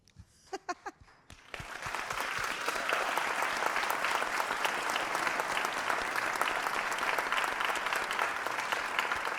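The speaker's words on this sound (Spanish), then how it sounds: "Pongámonos de pie y démosles un aplauso a Valentina." A few isolated claps open, then a full audience breaks into loud, steady applause for Valentina, which continues evenly to the end.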